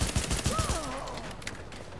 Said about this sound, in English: I want to use my pistol.